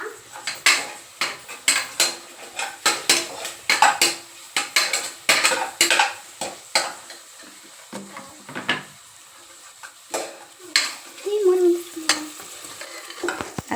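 Onions for chicken biryani are stirred and sautéed in a metal pot at home, a spoon scraping and knocking against the sides in rapid irregular strokes over a soft sizzle, close and with no talking.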